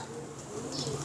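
A pigeon of a fancy show breed, with a pink mixed beak and mixed-colour feet, coos softly and steadily at close range amid faint background noise.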